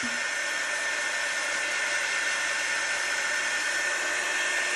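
A hair dryer or heat tool blows steadily on chalk paste drying on Halloween decor, a constant loud whirring airflow with no breaks.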